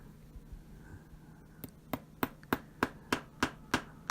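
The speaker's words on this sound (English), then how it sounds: "I'm not great at hammering tiny nails." Sharp hammer taps on small nails, starting with a few light knocks then settling into a steady run of about eight evenly spaced strikes, close and clear.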